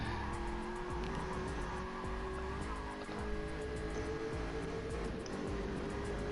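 Race cars in a racing video game run side by side around HighSpeedRing, their engines blaring steadily up close with a continuous high tone and brief tire squeal.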